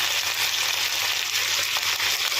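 Vegetables sizzle and fry in a pan for a drumstick, tomato and carrot curry, a dense steady hiss up close with no talk.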